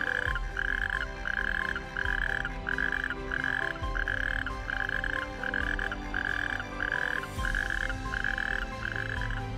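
A chorus of natterjack toads by a pond giving loud, rasping, pulsing mating calls in steady repeated bursts, with more voices croaking continuously underneath.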